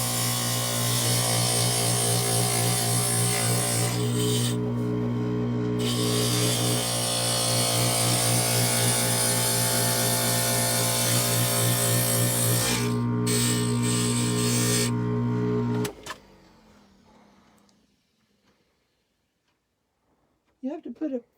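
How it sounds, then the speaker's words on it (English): A stained glass grinder grinding glass with water runs loud and steady for about sixteen seconds, its pitch shifting as the glass is pressed against the bit, then cuts off into near silence before a brief noise at the end. "You have to put a fair amount of pressure against the grinder in order for the grinder to work well."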